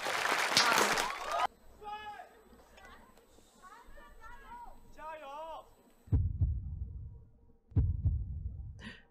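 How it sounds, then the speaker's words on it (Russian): A deep, throbbing heartbeat sound effect opens a song intro, low pulses thudding in pairs at the end after a stretch of people talking over a noisy start. "Это сердцебиение."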